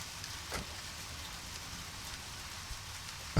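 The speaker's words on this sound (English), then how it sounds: "Oh, it's raining." Rain falls steadily in the Deadly Premonition video game, a soft continuous hiss with faint scattered drops and no talk, ending in a sudden louder thump at the very end.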